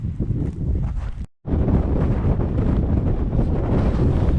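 Strong wind buffets the microphone on an open high moor near granite stones, a steady low roaring gust with rustling, broken by a brief silent dropout before the blustery rush resumes.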